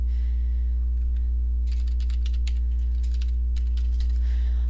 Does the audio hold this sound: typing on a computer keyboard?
yes